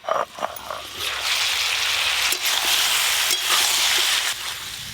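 Vegetables with potato and pumpkin frying in oil in a covered pan, seasoned with salt and turmeric; a steady close sizzle runs throughout, with a few clinks and soft knocks early on.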